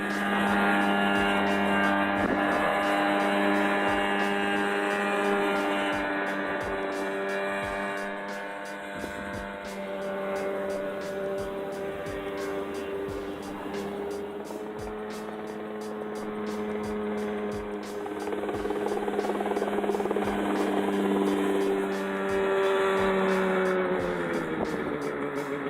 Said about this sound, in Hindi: मस्कीटो नामक इस मॉडल में एयर कूलिंग सिस्टम वाला एक 50 horse power Rotex 503 DCDI engine लगा है।